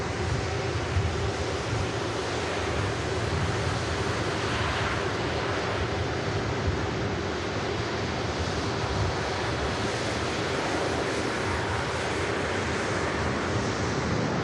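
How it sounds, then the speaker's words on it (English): A Singapore Airlines Airbus A350-900 at Manchester Airport makes a steady, broad jet roar that holds at an even level throughout, blended with wind noise on the microphone. "Singapore Airbus A350 900 series."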